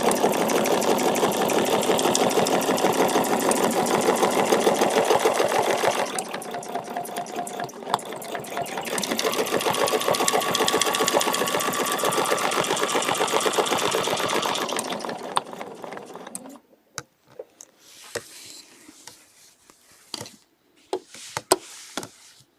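A sewing machine stitches a feather leaf quilting design in a long, steady mechanical whirr that pauses briefly, resumes, then stops, leaving scattered faint clicks and handling noises.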